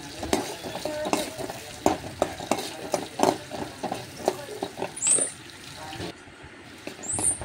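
Tomatoes and green chillies frying in a pan are stirred with a utensil, giving a steady soft sizzle broken by repeated scraping and clinking, heard close and quiet.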